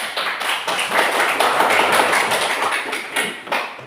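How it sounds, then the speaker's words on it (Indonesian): A class of students applauds together in a classroom, a dense, steady burst of close clapping that lasts several seconds before tapering off. "Beri aplaus."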